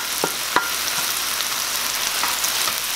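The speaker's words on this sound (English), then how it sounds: "Now I'll add the garlic." Garlic sizzles in a frying pan for a vegan bok choy dish, a steady bright crackling hiss with a couple of small sharp pops, no voices.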